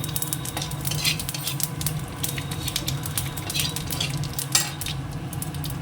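Bay leaves, dried red chillies and cumin seeds sizzle loudly in hot oil, a dense continuous crackle with a low hum beneath and occasional utensil clinks against the pan; no voices.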